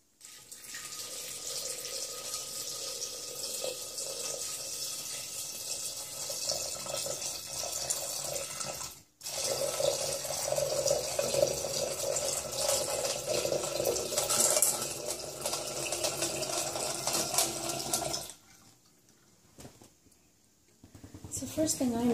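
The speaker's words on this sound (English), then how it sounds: "And now we're going to try adding some water." Water poured over plastic and glass pieces splashes and trickles steadily over them, with a brief pause midway and a quieter stretch near the end.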